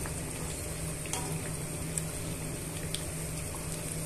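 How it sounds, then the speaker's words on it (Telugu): Potato bajji fritters crackle and sizzle as they deep fry in hot oil, a dense continuous bubbling hiss with occasional small pops, steady and close. "ఇలా బజ్జీలను టర్న్ చేసుకుంటూ డీప్ ఫ్రై చేసుకోవాలి"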